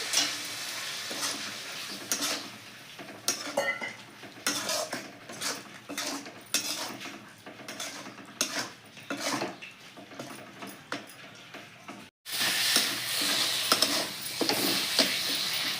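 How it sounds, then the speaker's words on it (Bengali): Eggplant frying with ground spices, coriander and a splash of water in a pan, a continuous sizzle broken by repeated scraping and clinking spoon strokes against the pan, close and loud throughout, with a brighter burst of frying near the end. "মশলাটা ভালো করে বেগুনের সাথে ভাজা হয়ে যাবে"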